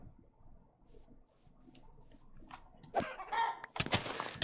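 Video game chickens cluck in short close bursts, with a sharp burst of game sound effects at the end.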